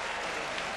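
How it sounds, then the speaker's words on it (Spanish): Boxing crowd applauding the winner after a first-round finish, a short burst of dense, even clapping from many hands, fairly faint and distant. "Aplaudido por el público"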